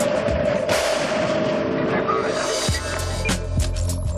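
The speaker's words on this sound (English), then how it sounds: "Every ragtag army has got towed artillery." Towed artillery, 105 or 135 calibre, fires in a heavy booming blast, followed by a deep, lingering low rumble, loud and close with a voice talking over it.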